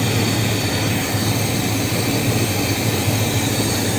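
A truck engine, tuned inside a short-box pickup, idles with a loud, steady, low rumble and an unbroken drone that holds even without pauses.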